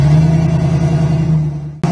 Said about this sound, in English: it has a great nice sound in the exhaust system, real nice